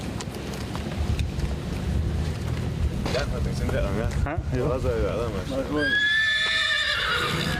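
An aged former sport horse in Chechnya whinnies loudly near the end, preceded by rustling and hoof movement under a voice, with wind buffeting the microphone outdoors.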